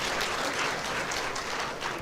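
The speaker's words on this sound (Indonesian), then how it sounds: "Yang tepuk tangannya paling keras dapat hadiah dari saya Bapak Ibu." Church congregation applauding together, a dense steady wash of clapping that holds evenly at moderate loudness for the whole stretch, with no voices standing out.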